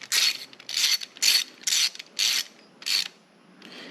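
A ratchet wrench cinching down supercharger parts during a big-block engine mock-up in a Cutlass, with about seven loud, close bursts of rapid clicking separated by brief pauses.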